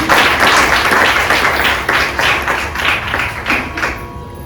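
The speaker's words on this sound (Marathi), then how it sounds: "तर एका जोरदार टाळ्या होऊन जाऊया त्याच्यासाठी" Audience applause at a Guru Vandana stage event for a whistling performer, a dense, loud wash of many hands clapping that holds steady for several seconds before thinning slightly toward the end.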